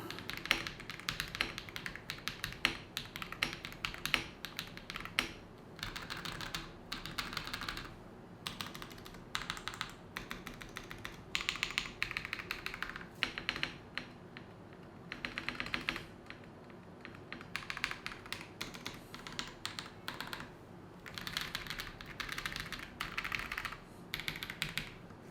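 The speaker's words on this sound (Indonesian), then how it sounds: "berikut adalah suara dari keyboard satu ini." Noir N1X mechanical keyboard with linear switches being typed on, a continuous close patter of soft key clacks in irregular bursts with brief pauses, no voices.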